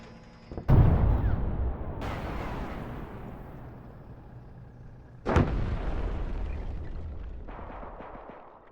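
A BMP armoured vehicle is destroyed by a loud explosion in the Arma 3 video game: a heavy boom with a long rumbling decay, then a second sharp blast a few seconds later.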